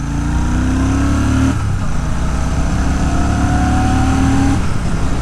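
A Royal Enfield Shotgun 650 motorcycle at full throttle, its engine droning steadily and loud with a rising tone, one shift or dip partway through, heard up close with no talk.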